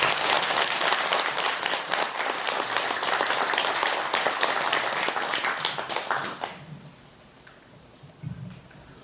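Audience applause at a Buddhist dharma assembly, a dense steady wash of clapping from a large crowd that fades out over the last few seconds, leaving quiet room noise.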